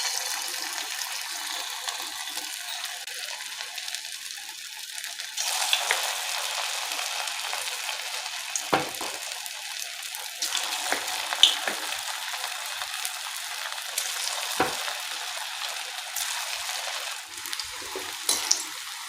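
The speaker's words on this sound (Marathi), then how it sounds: "आता आपण यांना छान असं क्रिस्पी होईपर्यंत तळून घेणार आहोत।" Soybean bhaji balls deep-fry in hot oil with a continuous soft bubbling hiss that rises after a few seconds, steady and fairly faint, with an occasional small knock of a utensil and no voices.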